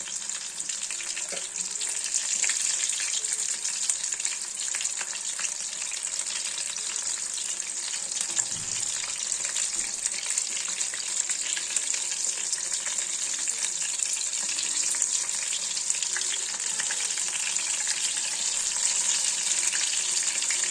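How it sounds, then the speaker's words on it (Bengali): Fish sizzling steadily in hot oil, a dense continuous crackle up close, with faint clinks in the background. "একদিকটা ভালো করে ভাজা হলে উল্টে দেব"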